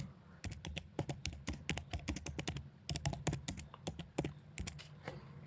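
Fast, irregular typing on a computer keyboard while filling in an online form, heard as close, quiet clicks in quick bursts with short pauses.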